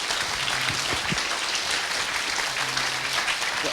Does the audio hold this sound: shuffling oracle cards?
no